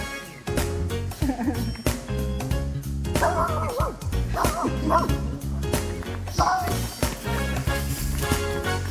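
A dog barks repeatedly on a group hike, sharp close woofs in irregular bursts, mixed with yips and whimpers, while people talk faintly in the background.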